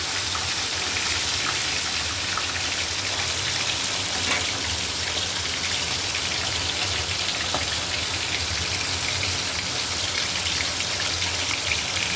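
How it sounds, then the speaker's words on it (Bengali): Heavy rain pours down steadily, a dense, loud, unbroken hiss of drops hitting surfaces with no voices. "আজকে যে পরিমাণে বৃষ্টি হচ্ছে দেখো খালি"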